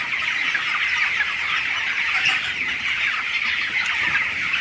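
A crowd of chicks in a winter brooding shed with husk bedding keeps up a constant, even wash of high cheeping, loud and close, with individual peeps poking out now and then over the steady chorus.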